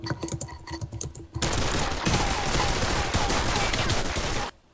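Rapid computer keyboard typing during an online shooter match, a dense loud burst of clattering keys lasting several seconds after softer clicks and faint talk at the start.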